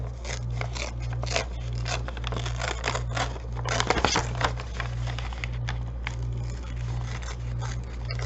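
Tea-dyed paper is torn by hand to free an angel picture, a close series of scratchy ripping and rustling strokes over a steady low electrical hum.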